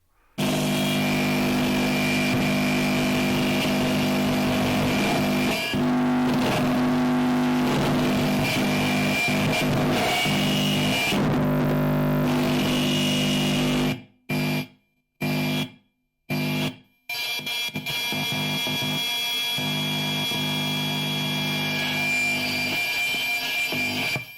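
Dense, harsh experimental noise music from Berlin roars continuously with grinding distortion and buzzing tones, then cuts out abruptly several times before a rougher, scraping passage resumes.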